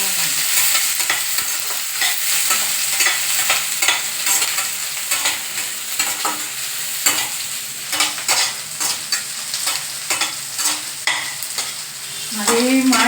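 Chopped onion frying in oil for a mushroom curry, a continuous close sizzle with repeated scraping strokes of a spoon stirring through the pan.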